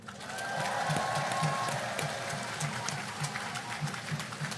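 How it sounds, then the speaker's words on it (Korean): Faint, distant clapping from a crowd at Lee Jae-myung's outdoor campaign rally in Yangsan. It carries a soft rhythmic thump underneath and a thin tone drifting over it. "그들에게 박수 한번 보내주십시오."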